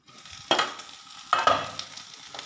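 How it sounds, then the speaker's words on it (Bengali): Potatoes frying in a pan for a Bengali gimi shak dish, a soft low sizzle broken by a few loud, close scrapes and clatters of a spatula or lid against the pan, with no voices. "আলুটাও মোটামুটি ভাজা ভাজা হয়ে গেছে"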